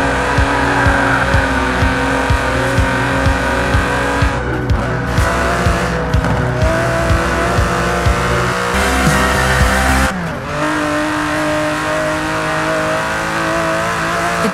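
An Aston Martin DB11's 5.2-litre twin-turbo V12 in a Forza Horizon 4 race roars loud and close, revving hard through gear changes with brief squealing tires and a sharp lift-off near the end.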